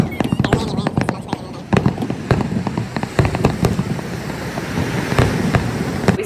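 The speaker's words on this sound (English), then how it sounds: "I put in a quick video of the fireworks that" Fourth of July fireworks seen on a Disneyland trip burst in a rapid, dense series of sharp cracks and booms, loud and continuous throughout, over a background rumble of wind and crowd noise, with voices faintly mixed in.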